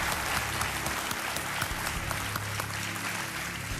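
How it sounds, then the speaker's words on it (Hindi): A studio audience at a televised quiz show claps steadily to welcome a contestant; the dense, even applause fills the short stretch without pause and without any talk over it. "तालियों के साथ उनका स्वागत."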